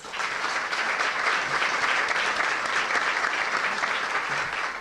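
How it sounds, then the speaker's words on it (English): A room full of guests at a Standard Club event claps for the servers, a dense, sustained applause that holds steady throughout with no talk over it. "please give our servers a round of applause"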